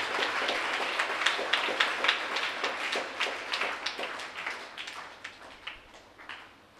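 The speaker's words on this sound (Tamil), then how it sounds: "வருக வருக என்று நாம் கைத்தட்டி வரவேற்போம்" A church congregation claps to welcome the priests at a Mass, a moderately distant, steady patter of many hands gradually thinning and fading out over several seconds.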